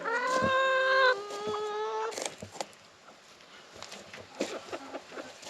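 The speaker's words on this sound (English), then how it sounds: "the chickens are kind of going around, checking it out" A rooster-like call with rising harmonic tones opens, followed by scattered soft clucks, rustling and light knocking footsteps from birds nearby.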